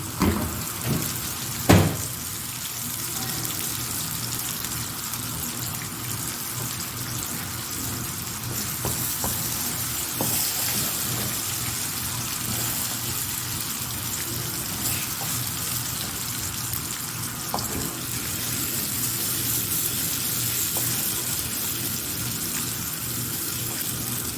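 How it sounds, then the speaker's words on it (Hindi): Beaten eggs fry in a pan for an Arabian-style omelet, a continuous close sizzle and crackle running throughout, with a sharp knock near the start and occasional light clicks from the pan. "यहाँ पे डालेंगे अंडे"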